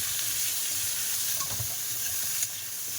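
Onions and pumpkin fry together in a pan of oil, sizzling steadily at close range while a spoon stirs and scrapes through them, with a single knock near the end.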